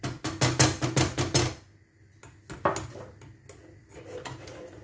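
Flour stirred into melted butter in a pan for Paris-Brest choux pastry, heard as a quick run of rhythmic spoon-against-pan scrapes and knocks, then a pause and a few scattered softer scrapes, close and alone.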